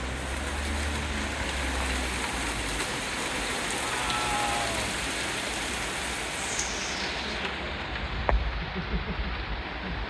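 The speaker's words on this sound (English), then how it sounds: "Caught in a rainstorm." Dense, steady rainstorm in Kyoto, a broad continuous hiss of rain on surfaces lasting throughout, fairly close, with a few louder splashes near the end and no speech.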